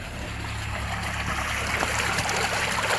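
Water drains steadily down a freshly jetted drain manhole in London, a continuous close rushing trickle with faint gurgles and no voices.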